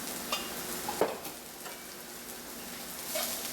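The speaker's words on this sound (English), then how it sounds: "And then mix everything together." Bitter gourd and potato subzi with added sugar is stirred in a pan: faint, soft scraping and shuffling with a few light knocks from the spoon, fairly quiet and close.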